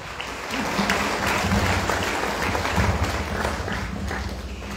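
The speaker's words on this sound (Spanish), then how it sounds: "Recibamos un fuerte aplauso" A church community gathering claps for its coordinator, a wash of sustained crowd applause heard from some distance, fairly even and moderately quiet.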